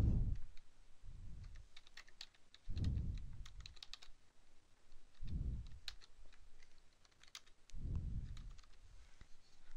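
Keystrokes tapped on a computer keyboard while entering an item alias for an Ace Hardware vendor in office software, clicking steadily and quietly with a few brief pauses, alone and close by.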